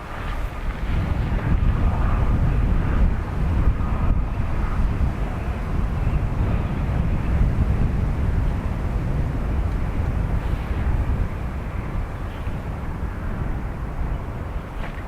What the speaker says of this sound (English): ATR coming in from Leeds Bradford, as well as a 757 United in from Washington IAD